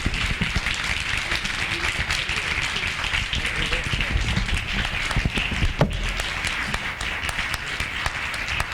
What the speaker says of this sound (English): please join me in a round of applause for Bob's service to all of us